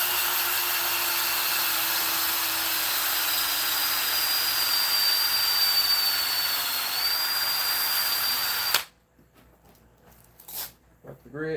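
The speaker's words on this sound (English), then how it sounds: "let's sand that a little bit more" A power sander whines steadily and loudly across a piece of walnut crotch wood for about nine seconds, then cuts off abruptly, leaving quiet room noise with some faint shuffling.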